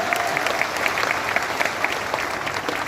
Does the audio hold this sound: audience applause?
yes